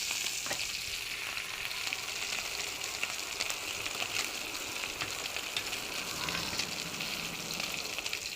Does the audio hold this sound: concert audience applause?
no